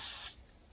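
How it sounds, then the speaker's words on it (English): A short, faint hiss of a spray bottle burst while applying window tint, fading quickly, heard up close. "Spray it one more time."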